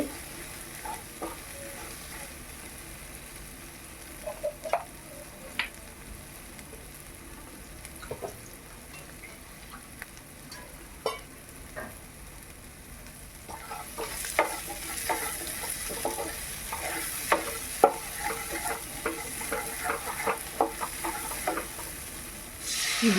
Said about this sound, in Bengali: দেখতে পাচ্ছেন মশলা কষানো প্রায় হয়ে এসছে